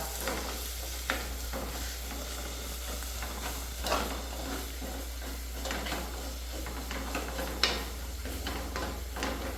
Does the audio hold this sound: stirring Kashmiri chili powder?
yes